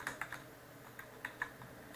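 Keys clack on a computer keyboard in a quick, uneven run of light taps as text is typed in Photoshop, close but quiet with no speech.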